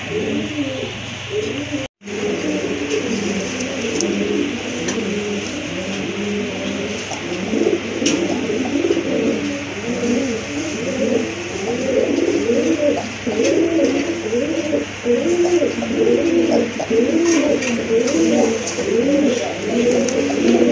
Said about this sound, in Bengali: এটা হলো চুরি মোজা কবুতর